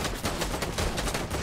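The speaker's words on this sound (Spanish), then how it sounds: "me disparan por la espalda, me han reventado" Rapid automatic gunfire in a shooter game, a dense burst of loud, close shots rattling continuously with no pauses.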